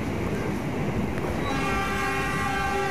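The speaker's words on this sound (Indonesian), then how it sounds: "terlihat juga kereta api Argo Parahyangan melintas langsung di area stasiun Padalarang" Argo Parahyangan train on the Gambir to Bandung route passing straight through Padalarang station, a loud continuous rumble of wheels and carriages close by, with a sustained horn tone rising over the noise in the second half.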